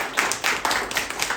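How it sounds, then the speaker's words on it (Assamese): An audience claps together in a steady burst of clapping, fairly close and continuous, with no voices over it. "এটা হাত চাপৰি হ'ব লাগে"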